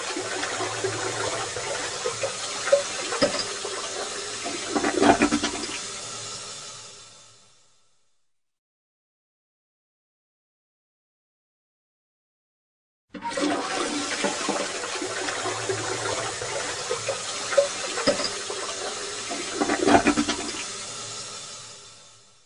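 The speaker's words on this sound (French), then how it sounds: "La chasse d'eau." A toilet flush from a children's video game: a rushing gurgle of water, stops into silence, then the same flush plays again from the start.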